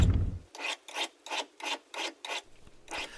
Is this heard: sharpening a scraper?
yes